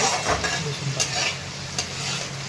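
Tender cluster beans (gavar) with garlic sauté in a pan, a steady close sizzle broken by a few sharp scrapes and clinks of a spoon stirring.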